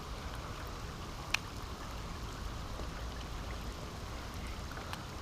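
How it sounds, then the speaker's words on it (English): Steady rain hisses over the scene with a soft, continuous wash, broken by one sharp tap near the start, during a storm while fishing. "Alright, it's starting to rain"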